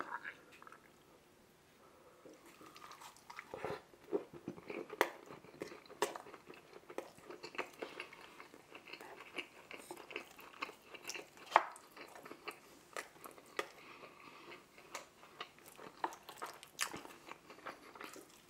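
Garlic naan bitten and chewed close to the mic, soft repeated crunches and moist chewing sounds spread across the whole stretch, fairly quiet, with faint breaths and occasional small clinks.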